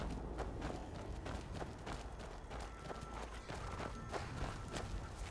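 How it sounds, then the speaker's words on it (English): Another runaway horse runs through Skyrim near an orc camp, hooves striking in a quick, even rhythm over a dense, constant layer of game background sound. "Another runaway horse."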